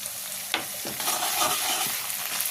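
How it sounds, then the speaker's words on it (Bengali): Ginger paste fries in a pan with browned onions, a steady close sizzle broken by the scrape and clack of a spoon stirring it around, loud and continuous with no voices. "দেখুন আদাটাও ভালো করে ভেজে নেব যাতে আদার কাঁচা গন্ধ না থাকে"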